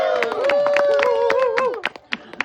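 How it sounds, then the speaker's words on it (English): An audience at a storytelling show with banjo claps in sharp, sporadic bursts, mixed with cheers and a sustained voice, fading to a few scattered claps at the end. "Let's give him a round of applause"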